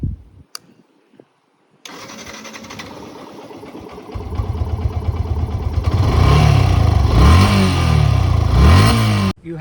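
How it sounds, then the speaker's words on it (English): A motorcycle engine starts after a few clicks, settles into a rapid thumping idle, then revs up loudly several times, its exhaust rising and falling close by. "let's see the exhaust note of it"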